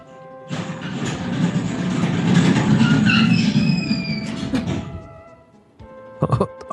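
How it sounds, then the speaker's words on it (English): Rumbling, clattering rolling sound of a small ride-on toy train passing close by, swelling then fading, with squealing tones mid-pass and a few knocks afterward. "Sounded like a toy version of the Phantom Train rolling through."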